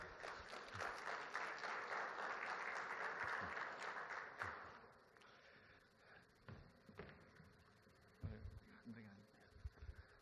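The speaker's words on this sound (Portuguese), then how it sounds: "Uma salva de palmas." An audience of mayors at a conference applauds as a federal deputy is welcomed to the stage. Dense clapping is heard first, then it fades to scattered claps and footsteps with light talk underneath.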